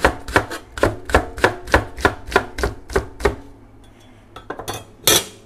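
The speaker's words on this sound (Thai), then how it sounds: "ที่เราเลือกที่จะหั่นใช้มีดแบบนี้หั่น" A kitchen knife chops a white onion stalk with about a dozen crisp, even strokes, then a short pause and a few scattered knocks and a final sharp one on the board, close and clear.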